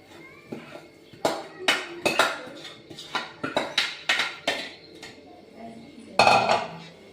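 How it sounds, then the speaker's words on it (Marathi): Grated carrot is tossed in a heavy-bottomed pan, giving a series of metallic clanks and scrapes from a spoon against the pan. The hits come in irregular close bursts with quiet gaps between them. "आता हा खीस मी पॅन मध्ये परतून घेते."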